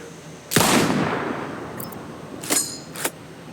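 A single loud sniper rifle shot in Sniper Ghost Warrior Contracts 2, a sharp crack with a long rolling echo, followed by two quieter metallic clanks.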